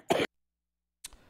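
A single short cough, close and fairly loud, followed by a second fainter cough or throat sound about a second later.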